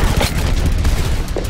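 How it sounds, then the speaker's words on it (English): Gunfire from the video game Overwatch crackles as a dense, loud burst of rapid shots lasting about a second and a half, with no talk over it. "who is shooting me?"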